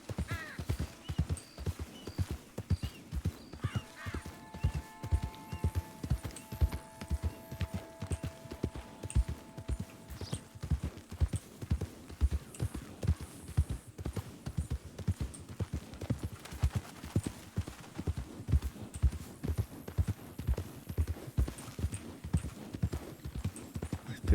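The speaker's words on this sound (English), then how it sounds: "I feel like I hear a horse, but I don't know where." A horse's hooves clip-clop in a steady rhythmic trot through an RDR2-based WildRP game, continuous and fairly close, with faint tonal game sounds and brief distant speech in the background.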